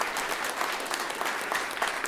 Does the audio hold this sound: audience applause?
yes